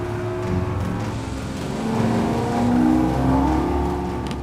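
Boat engines give a steady, loud drone that rises and swells in pitch as they rev, with no talking.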